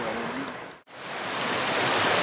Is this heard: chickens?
no